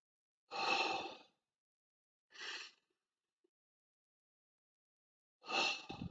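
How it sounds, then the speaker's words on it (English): Slow, deep breaths drawn in and let out during a box-breathing relaxation exercise: three soft, airy breath sounds, close and quiet, separated by long silent pauses, with no talking. "for example, breathing in."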